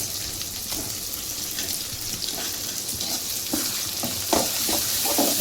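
Ground onion paste frying in a pan for a fish curry, giving a continuous close sizzle with scattered louder crackles and stirring scrapes, no talking.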